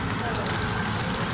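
Beef and bacon cowboy chili simmers at a steady boil in a pot, giving a dense, continuous bubbling and hiss that stays even and close throughout.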